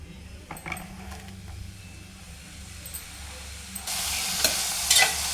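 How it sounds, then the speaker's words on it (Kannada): Indian borage (doddapatre) leaves frying in hot oil in a pan, a soft steady sizzle with a few light stirring clicks, then a louder, brighter hiss in the last seconds. "ಎಣ್ಣೆ ಹಾಕ್ಬಿಟ್ಟು ಕಾದಿದ್ದಕ್ಕೆ ದೊಡ್ಡ ಪತ್ರೆ ಎಲೆ ಹಾಕ್ಕೊಂಡು ಫ್ರೈ ಮಾಡಬೇಕು"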